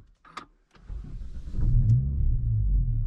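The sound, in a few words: car engine starting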